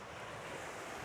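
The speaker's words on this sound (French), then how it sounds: "t'entends le bruit des vagues" Ocean waves wash steadily onto a Seychelles beach, a continuous broad hiss of surf mixed with wind noise on the microphone, with no clear individual breaks and no voices.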